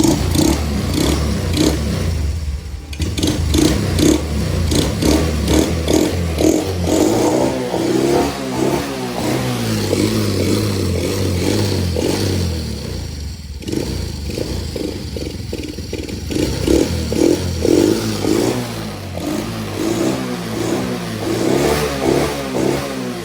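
A Honda TRX 90 ATV engine runs loud and close, with its carburetor in need of tuning. It revs repeatedly in rough, rising and falling bursts over a steady idle and a metallic clatter, with no pause.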